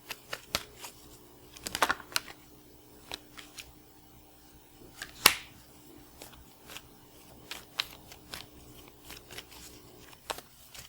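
Numerology guidance cards are shuffled and handled quietly in a hushed room, with soft irregular riffles and flicks and one sharper snap partway through.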